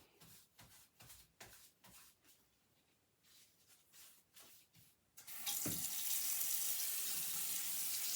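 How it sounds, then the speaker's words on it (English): A bathroom faucet runs as the sink is rinsed: a few light shuffles and clinks, then a steady, loud gush of running water that fills the last three seconds. "my little faucet goes back and forth like this, so I can just kind of rinse it like this"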